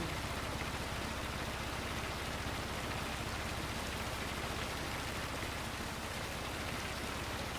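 Steady rain falls in Farming Simulator 25 over flooded rice fields, a constant even hiss of drops at moderate level with no pauses and no talk.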